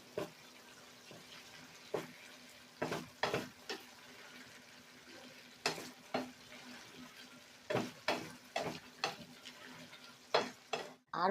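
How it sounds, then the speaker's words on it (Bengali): Poppy seed paste mixed with oil is stirred in a pan, giving repeated scraping strokes at an uneven rhythm over a faint background hum, close by and without speech. "1 চামচ পোস্ত আর 1 চামচ তেল দিয়ে আবারও ভালো করে আমি নেড়ে দেব।"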